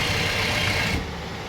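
Sewing machine stitching along the lining strip of a trouser hem, a steady close mechanical whirr that runs evenly and then drops slightly in level near the end, with no voices.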